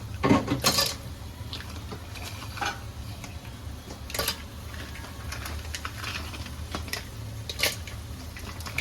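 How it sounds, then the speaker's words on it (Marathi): River crabs clatter into a metal cooking pot during home cooking, giving scattered sharp clinks and knocks. Several louder hits cluster near the start, with more near the middle and the end, over a low steady background hum. "आणि आता इकडे खेकडे टाकते"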